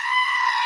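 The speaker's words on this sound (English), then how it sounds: "and it's a screaming goat sound effect." A loud, shrill screaming goat sound effect, one sustained piercing bleat heard alone and close.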